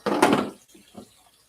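Clothes washed by hand being rinsed, a short splash and slosh of water up close, followed by a couple of softer trickling sounds.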